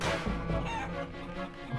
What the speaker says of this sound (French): Oh les pauvres poules.